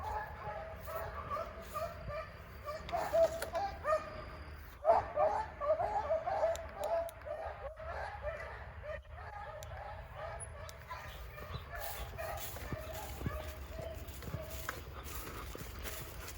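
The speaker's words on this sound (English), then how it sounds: "This right here is Ghost and Tessie, the two Cadillac Jack dogs." Coonhounds bred from Cadillac Jack lines bark and yip repeatedly at a distance, a steady chorus with some whining, under a low outdoor rumble and occasional voices.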